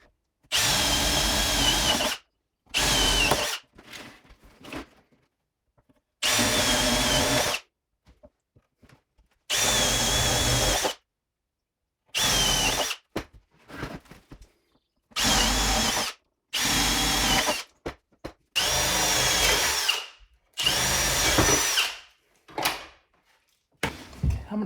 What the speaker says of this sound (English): I'm gonna put a few more holes around the bottom of it and on the lid as well